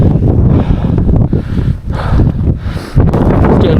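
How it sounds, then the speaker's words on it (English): Strong wind on a snowy mountain summit on Scafell Pike in a whiteout, loud gusting buffeting that roars and dips in uneven surges, close to the microphone, with no talking. "Extremely windy, complete whiteout, can't see a thing, snow drifts everywhere"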